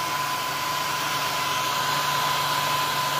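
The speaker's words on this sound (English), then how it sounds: "He does enjoy the blow dryer generally, because it's nice and warm." A blow dryer runs continuously on a rooster just out of its bath, a steady close whooshing hiss with a faint whine and no pauses.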